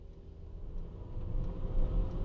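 Steady low road rumble inside a Mercedes W213 E400 as it drives, recorded by an integrated dashcam, with faint engine hum rising slightly toward the end and no talk.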